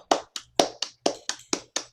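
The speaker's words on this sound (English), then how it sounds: "please, one more round of applause" Applause on a Zoom call, heard as eight crisp, close handclaps in a quick, even rhythm from a single person, with nothing else audible.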